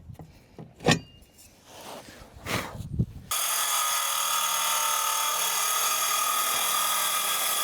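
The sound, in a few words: Sawzall reciprocating saw cutting deck wood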